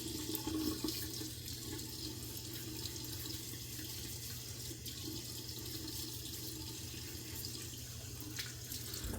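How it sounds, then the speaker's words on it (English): Water runs steadily from a tap into a sink before shaving, a faint, continuous rushing wash with no talk. "Add some water."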